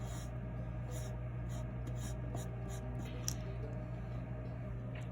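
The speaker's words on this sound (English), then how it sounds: "So the wing, we're gonna just draw lines basically." A pencil draws short strokes on paper, sketching the feathers of a sparrow's wing. The scratchy rubs repeat in close, quiet bursts over a steady low hum, with no talk.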